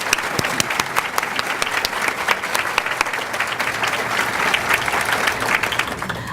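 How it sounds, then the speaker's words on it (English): A luncheon audience claps steadily and warmly, with dense, even applause that holds at a constant level throughout, with no voices breaking through. "please hold your applause"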